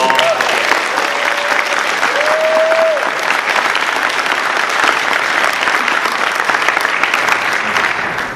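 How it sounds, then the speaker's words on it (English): An audience at a live show at the PAX East 2011 gaming convention claps loudly and continuously, a dense wash of applause that holds steady and fades slightly at the end. "I want everyone to give Mike and Joe back there a round of applause"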